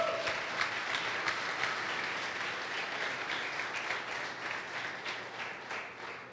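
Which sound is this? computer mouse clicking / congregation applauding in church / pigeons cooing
congregation applauding in church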